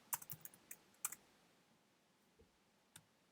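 Keys clack on a computer keyboard as a town name is typed, a quick burst of close, crisp taps followed by a couple of isolated clicks in a quiet room.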